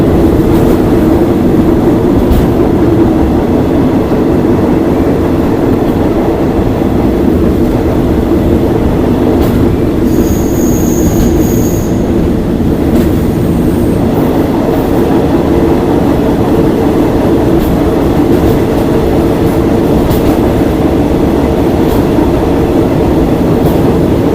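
A train runs along the Death Railway through the Thai jungle, a loud, unbroken rumble and rattle of wheels and carriages that holds steady throughout, with a brief high squeal partway through and no talk.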